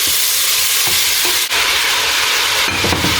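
Scampi fry in a pan with chopped vegetables and tomatoes, a dense close sizzle broken by a few scrapes and clacks of a utensil stirring them.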